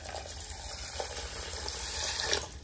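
Water running from a tap onto biryani rice in a bowl for washing and soaking, a steady close splashing flow that holds for under three seconds with no speech.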